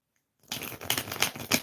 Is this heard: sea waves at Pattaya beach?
no